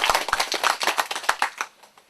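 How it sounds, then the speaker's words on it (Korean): An audience at a panel discussion on farm experience learning breaks into a short burst of applause, dense clapping that thins out and fades after about two seconds. "뜨거운 박수를 한번 부탁드리도록 하겠습니다"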